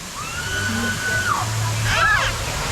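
Water ride effects at a water park blowing air and water over a boat of riders, a steady rushing whoosh of spray with a rising then falling tonal whine, while people talk and exclaim over it.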